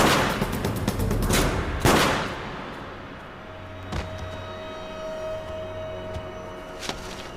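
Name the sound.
gunshot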